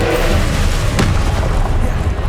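A Confringo blasting spell in Hogwarts Legacy explodes as a loud, booming burst, a sharp crack near the middle of a dense, rumbling roar that fills the whole moment, with a voice faintly mixed in.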